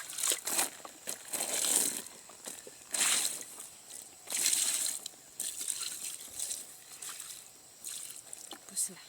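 Water is poured onto an onion seedbed in a village field, arriving in several separate splashing, gushing bursts with short quieter pauses between them.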